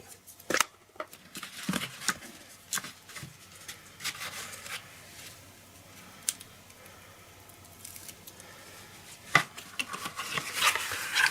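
Scissors snip tape for wrapping a gift box, a scatter of quiet close cuts and small crinkly handling noises with gaps in between.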